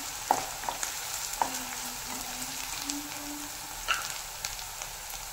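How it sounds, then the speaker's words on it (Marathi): Onions sizzle gently in hot oil while frying until golden and crispy for a paneer biryani, a faint, steady crackle with a few soft clinks of stirring and no talking. "आता ह्याच्यामध्ये आपण कांदा घालणार आहे. पहा, हा पूर्ण गोल्डन होईस्तोवर आपल्याला असा तळून घ्यायचा आहे, एकदम क्रिस्पी."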